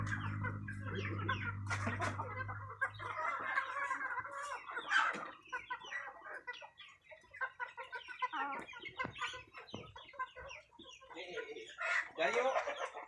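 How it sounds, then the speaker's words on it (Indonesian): Chickens cluck steadily close by on a village farm, and a rooster crows partway through. Low background noise sits under the birds, and a person speaks briefly near the start. "Mau dibawa kemana ayamnya?"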